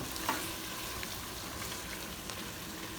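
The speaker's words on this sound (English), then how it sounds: "we reduce this wine until it's nearly gone" Wine reducing in a hot pan for a rouladen (German braised beef roll) sauce, giving a steady, close sizzle and bubbling hiss that runs unbroken with a few faint clinks of stirring.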